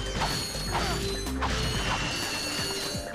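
Bolts being collected in the PS3 game Ratchet & Clank give rapid metallic clinks and mechanical clatter over a steady bed of game music and ambience, dense and continuous, with no talking.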